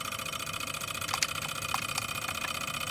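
A small Stirling engine power generator kit runs on its own with a steady mechanical whir and hum, while faint ticks and clicks recur as it begins to slow down.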